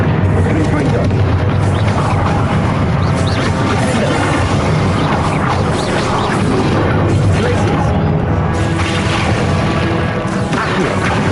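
Fiery blast of the Confringo spell in Hogwarts Legacy, a loud crashing explosion that booms and crackles across the whole stretch, surrounded by dense game action and spoken spell names.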